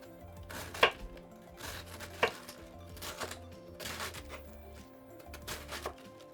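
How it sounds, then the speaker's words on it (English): A knife slices cabbage into thin pieces on a cutting board, giving quiet, irregular thuds and taps with a few sharper knocks, close by and with no talking. "we want to slice the cabbage into just thin pieces"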